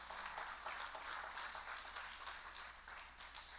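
Congregation at a Brazilian evangelical church service clapping for the word of God, a fairly faint, distant wash of applause that continues steadily over a low hum.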